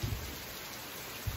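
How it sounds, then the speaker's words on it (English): Steady rain falls throughout, a dense broadband hiss with a few low thumps of drops near the start and end, and no talking. "Rain."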